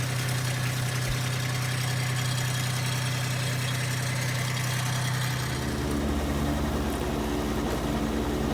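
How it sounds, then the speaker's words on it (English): A lawn mower engine runs steadily while mowing wet grass, a loud continuous drone that shifts to a lower, rougher hum partway through. "Here you can see that I'm beginning to mow. The grass is wet"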